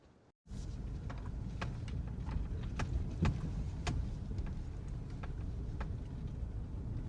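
A tractor pulling a land plane drives back and forth over a rural gravel road, giving a steady, close engine and rolling-gravel rumble that runs nearly throughout, with faint higher clicks and rattles scattered on top.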